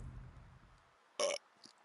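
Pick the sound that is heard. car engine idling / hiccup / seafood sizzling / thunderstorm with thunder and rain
hiccup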